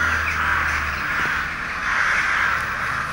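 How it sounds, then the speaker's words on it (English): Crows caw from a distance over a steady outdoor background hiss, a few harsh calls scattered through. "It's like these crows here."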